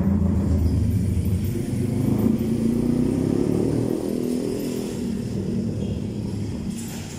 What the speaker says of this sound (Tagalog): Lakas sumarurot ng motor.